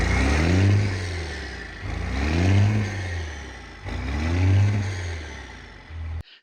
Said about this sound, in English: This has a 12-valve Cummins under the hood,